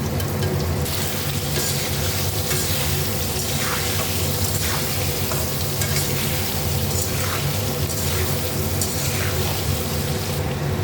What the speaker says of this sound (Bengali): এবার আলুটা দিয়ে দিলাম দিয়ে অল্প সামান্য আলুটা ভেজে নেব